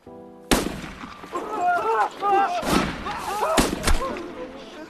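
Sniper gunshots crack through a war film scene, a few loud sharp reports with thuds between them, mixed with shouting voices and chaotic battle noise.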